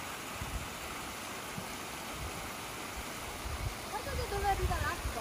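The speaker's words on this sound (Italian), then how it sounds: "Ecco qui un altro punto in cui l'acqua scende dalla montagna." A mountain stream in Alto Adige, on a hike from Lappago toward the Neves waterfall and lake, rushes under a small wooden footbridge. The close, steady broadband wash grows slightly louder near the end, with faint voices in the background.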